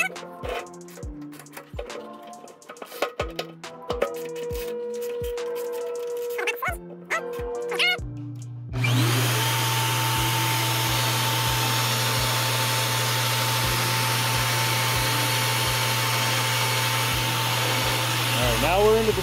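Walter Mini IceCut magnetic base drill spinning up: intermittent taps and short whirs, then a loud steady motor whine with a sustained hum that runs on continuously to the end.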